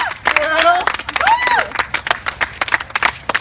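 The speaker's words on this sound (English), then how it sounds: "Clap it up." A group at a HIIT workout camp claps hands in bursts, sharp scattered claps mixed with loud shouted encouragement from a coach and participants.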